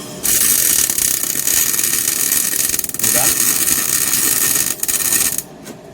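Steady, loud crackling buzz from a CO2 welder set to 20 volts and 100 amps, running as a continuous sizzle with a couple of brief dips before it cuts off near the end.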